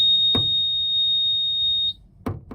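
Oil alarm on a Suzuki outboard motor beeping: a single steady high-pitched electronic tone held for nearly two seconds, with a couple of sharp clicks around it.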